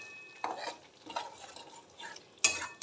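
Fried potatoes are tipped into a spice masala in a pan for papad kofta curry and stirred, giving several scraping, sizzling spoon strokes in short bursts, ending on a sharper clatter, with no voices.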